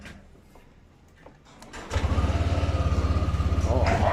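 A scooter-style motorcycle wired with a fingerprint key is tested: after a quiet stretch the engine cranks at about the two-second mark and catches, then settles into a loud, close, steadily pulsing run.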